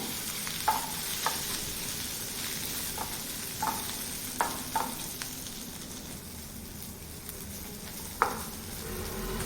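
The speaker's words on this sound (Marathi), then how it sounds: "हा जो आपण ठेचा करून घेतला आहे हा तेलावर परतून घ्यायचा आहे एक मिनिटभर चांगला परतून घेऊया" Crushed okra thecha sautés in oil, a soft, even frying hiss with light intermittent taps of a spoon stirring the mixture.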